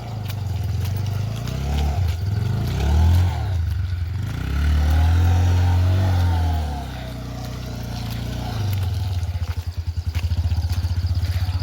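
A motorcycle engine rumbles close by, swelling as it revs and approaches, then settles into an uneven putter as it idles on a Dashain festival trip.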